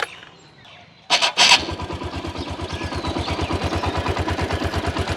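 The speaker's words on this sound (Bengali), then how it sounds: "এখন কিন্তু গাড়িটা স্টার্ট অবস্থায় আছে। যদি ইঞ্জিনের সাউন্ডটা একটু শোনানোর চেষ্টা করি" A secondhand TVS Stryker 125cc motorcycle starts with a brief cranking burst and catches. It settles into a close, steady single-cylinder idle with an even, throbbing pulse, and no one talks over it.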